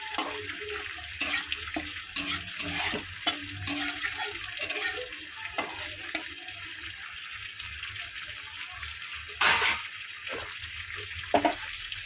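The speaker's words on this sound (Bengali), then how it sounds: "মাংসটাকে ভালো করে ভেজে নিতে হবে বন্ধু।" Chicken pieces frying with white cumin in a pan for chicken kasha, stirred now and then, giving a steady sizzle under scraping, knocking stir strokes throughout.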